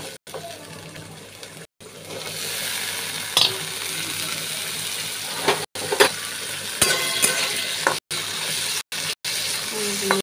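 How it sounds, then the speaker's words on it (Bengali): Potatoes dropped into hot oil in a wok, a loud close sizzle with stirring clatter, broken by a few brief silent gaps. "আলুগুলো ছেড়ে দিলাম।"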